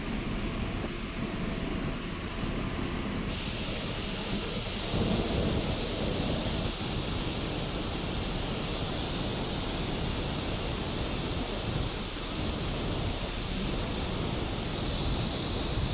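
Water roars through the opened gates of the Gulab Sagar dam in a steady, dense rush of broadband noise that stays loud and unbroken throughout, with no voices.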